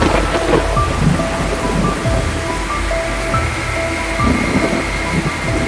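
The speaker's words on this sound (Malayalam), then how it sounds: "നല്ല മഴയായിരുന്നു ഇടിയും മിന്നലും ഉണ്ട്" Steady heavy rain with thunder roars close by, a dense wash of noise with low rumbles rolling underneath throughout.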